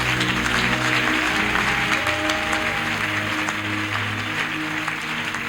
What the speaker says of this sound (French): Même étant assis, tu peux royalement acclamer pour la croix de Jésus.